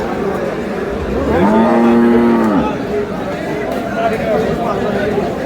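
A single long cow moo rises clearly over a busy background of crowd chatter and talking at an outdoor cattle market in Dinajpur, Bangladesh.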